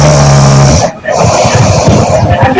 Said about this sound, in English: Snoring, which will vary from person to person, can disrupt another person's sleep